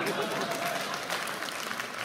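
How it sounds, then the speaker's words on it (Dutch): Audience at a radio comedy competition final giving steady, moderately loud applause over about two seconds, with crowd noise mixed in. "Ik had hier een klein applaus verwacht"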